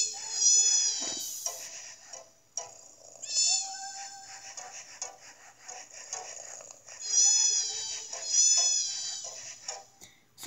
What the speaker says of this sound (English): Here is the cat.